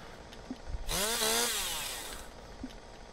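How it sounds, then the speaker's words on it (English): A chainsaw melee weapon in the Black Ops 3 multiplayer shooter revs up in one loud, rising, buzzing burst lasting about a second and a half, with faint clicks before and after. "Do you have chainsaw, Tyler?"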